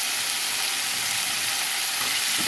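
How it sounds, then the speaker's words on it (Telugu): Broad beans and onion frying in oil for a bean and tomato curry, a dense, even sizzle filling the pan at close range, steady throughout with no voices. "ఒకసారి కలుపుకున్న తర్వాత చిక్కుడుకాయలు కూడా వేసేద్దాం ఫ్రెండ్స్"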